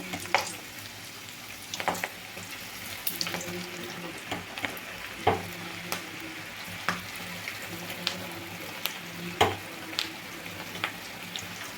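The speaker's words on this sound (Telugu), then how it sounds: "ఆయిల్ బాగా హీట్ అయిన తర్వాత వేసుకోవాలండి తర్వాత మీడియం ఫ్లేమ్లో పెట్టుకొని వేయించుకోవాలి" Okra pakoda frying in hot oil over a medium flame, a steady soft bubbling sizzle broken by scattered sharp clinks and pops across the whole stretch.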